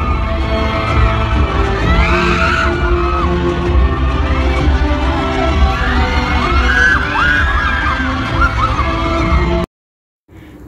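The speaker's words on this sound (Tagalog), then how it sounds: "lalong lumakas ang hiyawan ng mga fans at supporters ng Kat Den" A large crowd of fans screams and cheers for Kathryn Bernardo and Alden Richards at a box office awards event, a loud sustained roar with high shrieks rising throughout, cutting off abruptly near the end.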